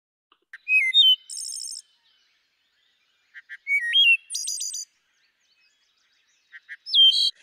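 A recorded bird call played in a sound class, three separate phrases several seconds apart, each with short ticks, a rising whistle, then a buzzy rattling trill, clear against silence.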